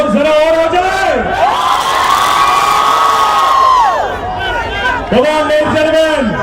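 A loud crowd at a Salman Khan Dabangg Reloaded tour show in Riyadh cheers and whoops continuously, with shrill shouts rising and falling, a brief dip, then a fresh surge of yelling.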